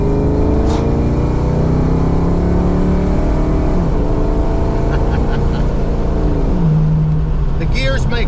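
Fox body Mustang swapped from a five-speed T5 to an AOD automatic transmission accelerates, its engine drone rising and shifting through gears in a steady, loud hum heard from inside the car, with brief talk over it.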